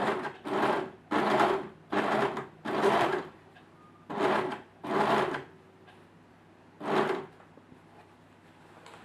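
A serger stitches along a fabric edge while a sleeve dress is sewn, running in eight short, even bursts of mechanical whirring with brief pauses between, close and moderately loud.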